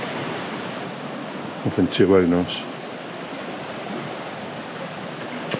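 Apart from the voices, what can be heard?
flooded river flowing after Storm Babet in Castleton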